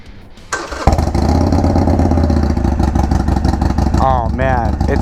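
A Harley-Davidson Iron 883 motorcycle with cut exhaust baffles starts up after a brief crank and settles into a loud, deep, throaty idle. A couple of sharp throttle blips follow near the end, close to the listener.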